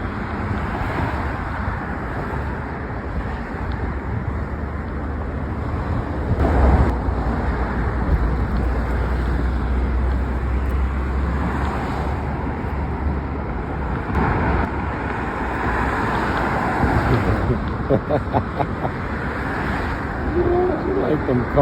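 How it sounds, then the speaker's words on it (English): Cars driving past on a road, heard as low rumbling traffic and wind noise with a couple of louder swells as vehicles pass, while a person talks nearby. "Lula, you like the cars, baby girl?"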